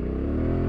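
A heavy 500-pound adventure motorcycle on Tusk 2Track tires accelerating through deep sand, a loud, close, continuous low engine drone with rumbling wind buffeting, brief and unbroken.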